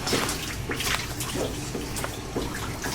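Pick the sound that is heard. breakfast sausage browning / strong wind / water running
water running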